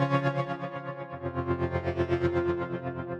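A sustained synthesizer chord of stable notes for melodic techno swells and pulses with a wavering, echoing shimmer, fairly quiet and alone for about three seconds.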